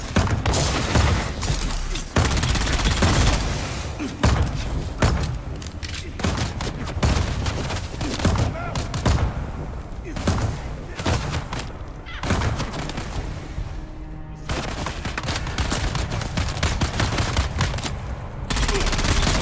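Sustained gunfire in the video game Dune Awakening, rapid bursts and volleys with heavy thumps running almost continuously, loud and close, with brief lulls between strings of shots.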